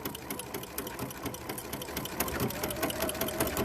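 A sewing machine runs steadily with a ruffler foot attached, set to gather every six stitches into fuller ruffles; the close, continuous mechanical whir and rapid needle clatter hold throughout, with no talking.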